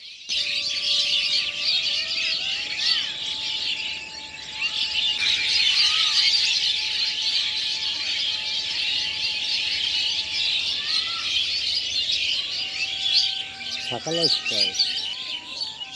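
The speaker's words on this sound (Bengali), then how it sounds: "পাখির কিচির মিচির শব্দে সত্যি এতটাই আমার কাছে ভালো লেগেছে" A huge flock of common myna birds chatters around a village wetland at dusk, a dense, loud, unbroken wall of overlapping chirps and squawks lasting throughout, with a few steady tonal sounds underneath.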